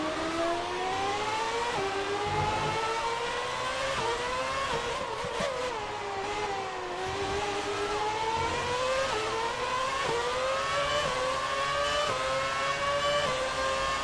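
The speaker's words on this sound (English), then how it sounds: "Just to hear this engine again?" A classic 2006 Renault Formula 1 car in F1 2018 screams at high revs, its engine pitch sweeping up through the gears and dipping briefly on shifts, loud and unbroken throughout.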